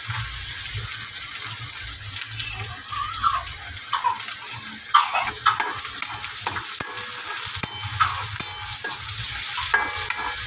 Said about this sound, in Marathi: कांदा चांगला फ्राय करायचा, थोडासा कलर चेंज होईपर्यंत।